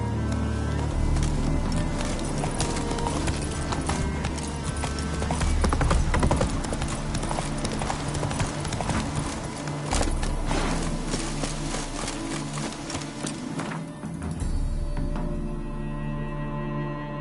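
Horse hooves clip-clop in The Witcher 3 under a dense, loud bed of music and game ambience, the galloping rhythm running throughout and partly masked.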